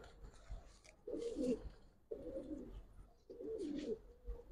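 A Giribaz pigeon, an old-breed male, coos three times in low, rolling phrases spaced about a second apart, close by and clear against quiet background.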